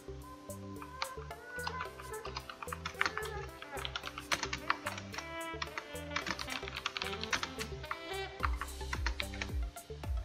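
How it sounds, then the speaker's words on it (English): Rapid clicking keystrokes on a computer keyboard, fairly faint and steady, mixed with background music throughout. "reset your graphics driver by pressing Windows Control Shift B in your keyboard together"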